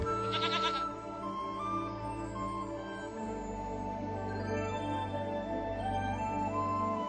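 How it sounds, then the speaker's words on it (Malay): A goat bleats once, a brief wavering call near the start, followed by a steady tonal background with no voices. "kambing"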